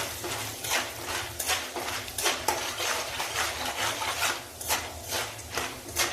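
Chaat masala, turmeric, salt and popcorn corn kernels stirred together in a pan for traditional zunka, giving steady repeated scraping and rubbing strokes of a spoon against the pan, close and fairly loud, with no talking.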